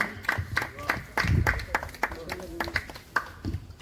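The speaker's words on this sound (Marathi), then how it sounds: "प्रदीप गंगाराम पवार यांच्यासाठी जोरदार टाळ्या" Audience applause at a book launch ceremony as an honoree is called to the stage, scattered sharp claps over a few seconds mixed with a speaking voice.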